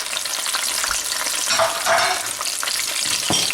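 Steady, loud sizzling of tomatoes frying in hot oil, a dense crackling hiss that swells briefly in the middle, with no voices.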